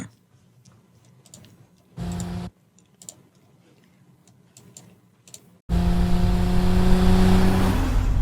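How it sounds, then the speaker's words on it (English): A car engine in a Super Bowl commercial bursts in loudly after sparse ticking and brief faint sounds, with a short roar midway and then a sustained, close revving drone to the end. "Yeah, just your typical Super Bowl car ad."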